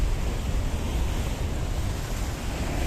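Sea waves wash against the rocky coastline of downtown Protaras, Cyprus, as a steady, loud, close roar mixed with wind rumble on the microphone, without talk.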